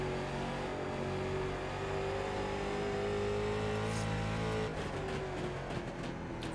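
A late model stock car engine in the iRacing game drones and revs as the throttle is worked through the turns of Concord Speedway, a steady loud roar with shifting pitch and no talk.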